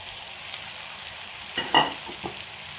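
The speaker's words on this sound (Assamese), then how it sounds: "এই পেষ্টখিনি মই এতিয়া ইয়াতে দি দিওঁ।" A spice paste of cumin, coriander, onion, garlic and ginger hits a hot pan with a soft sizzle, then stirring brings a few brief louder spatters; quiet and close, with no voices.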